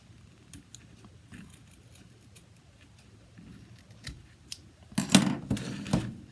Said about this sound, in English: Take my scissors, going to kind of line it up